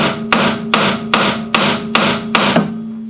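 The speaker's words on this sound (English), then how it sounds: "just pounding on the spindle to drop the strut out" Hammer blows on the spindle of a 1999 Ford Contour rear strut to drop it free, six sharp metallic strikes at an even pace, loud and close with no talk.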